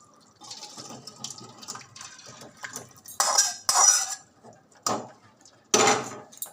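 A pot of paneer curry is lifted off a gas stove, giving a few close metallic clanks and scrapes of cookware between quieter handling noises.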